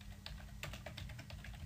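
Rapid keystrokes on a computer keyboard as a name is entered, a quick run of light close clicks over a low background hum, with no talking.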